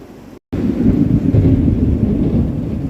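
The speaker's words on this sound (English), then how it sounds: "I swear this lightning and thunder is pretty freaky, very close." Close thunder rumbles loudly over heavy rain pounding around a caravan parked by a creek, a sustained deep roar after a brief dropout at the start.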